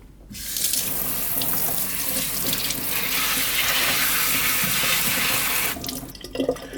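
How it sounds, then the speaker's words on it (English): Kitchen tap water runs steadily into a sink over a rolling mat while fruits and vegetables are rinsed, a loud, even splashing rush that starts abruptly and cuts off near the end, leaving a few drips. "perfect for rinsing fruits and vegetables"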